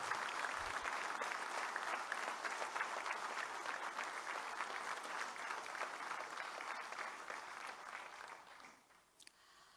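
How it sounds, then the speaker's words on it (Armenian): A crowd applauding at a political speech in memory of the fallen, dense sustained clapping for about nine seconds that gradually thins and fades out near the end. "Ես առաջարկում եմ ծափահարություններով հիշել նրանց"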